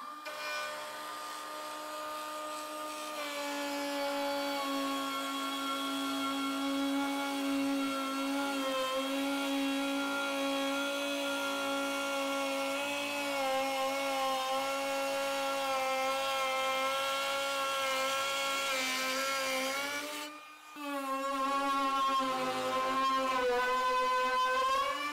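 TECEPO brushless 21V cordless router cutting pine at maximum speed, a steady close high-pitched whine with shifting harmonic tones as it works, briefly dropping out for a moment before resuming at full speed.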